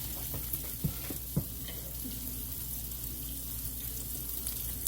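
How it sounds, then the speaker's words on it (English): Potato cakes sizzle steadily in a hot frying pan as they are patted out and set down, a constant low crackle with a couple of soft thumps as patties land, no talking. "All I'm doing is just patting them out and putting them onto the pan."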